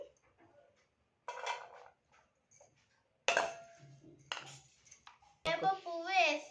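Mango pieces for Ugadi pachadi go into a dish with a few close clinks and scrapes of utensils on metal, and a voice speaks briefly near the end.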